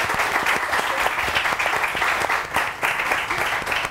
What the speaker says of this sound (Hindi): बहुत सारी तालियां फराह के लिए